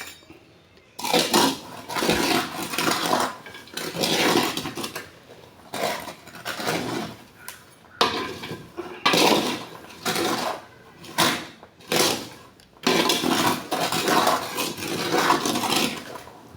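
Peanuts being stirred in hot sand in a pan, giving repeated gritty scraping and rattling strokes in bursts with short pauses, close and moderately loud.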